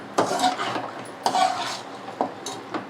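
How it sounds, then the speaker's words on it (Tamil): A utensil scrapes and sweeps through chicken curry with drumsticks sautéing in a pan, making a few separate rasping strokes against the pan, close and moderately loud with no voices. "அப்படியே லேஸாக அப்படியே கிண்டிக்கிட்டே இருந்தீங்கன்னா கறி நல்லா வதங்கும்"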